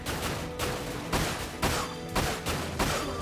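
Gunfire in the video game Dirge of Cerberus: several rapid bursts of shots, loud and close, repeating about every half second, with no talking.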